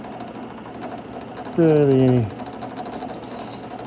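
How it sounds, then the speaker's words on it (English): A drill press motor gives a brief, loud whine that drops in pitch as it spins down over a steady workshop hum, with a short spoken word nearby. "I'm using the drill press to hold it there and hold firm."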